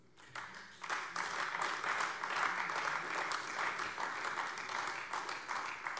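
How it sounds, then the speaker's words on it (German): Sustained applause in a state parliament plenary session, a dense, even wash of many hands clapping from a distance, steady throughout after a brief quiet start. "Applaus"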